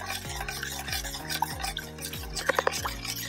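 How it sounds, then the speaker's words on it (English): A utensil stirs melting butter and juices in a roasting pan with roast chicken, making repeated gentle scraping strokes at a steady rhythm, a few light metallic taps, and soft sizzling beneath. "Stir it up. Just stir that gently."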